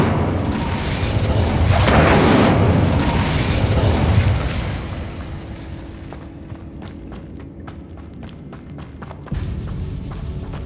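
Fire spell cast in the video game Hogwarts Legacy: a loud, roaring burst of flame swelling for a few seconds, then fading into quieter crackles and small pops, followed by a lower, softer rumble.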